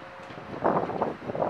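Wind blowing at a football stadium construction site, a steady dull rush against the microphone that swells in gusts partway through, with no voices.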